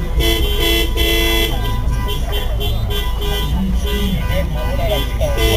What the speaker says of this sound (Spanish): chico tocando esta bocina? ¿Por qué bocina tan fina?